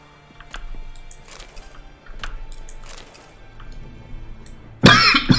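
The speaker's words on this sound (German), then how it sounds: "Jetzt krieg ich wieder die Husterei." A person coughs repeatedly in short, scattered bursts that build to one loud, harsh burst at the end, with no talk over it.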